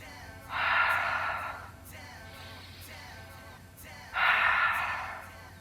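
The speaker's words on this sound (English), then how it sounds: "Breathing in through the nose and out through the mouth." Two long, loud yoga breaths, in through the nose and out through the mouth, each a slow airy rush lasting about a second, separated by a quieter pause, close to the listener.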